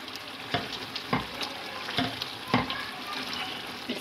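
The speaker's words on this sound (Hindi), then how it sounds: "अब मैं इसको घोटने के साथ घोट लूँगी" Cooked pumpkin halwa being mashed in a pot: rhythmic soft thuds and squelches about every half second, with a steady moist sizzle underneath, close and fairly quiet, no talking.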